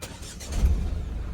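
Tata Altroz DCA automatic hatchback started by push button, its engine catching with a low rumbling surge and settling into a steady idle, heard from inside the cabin and brief.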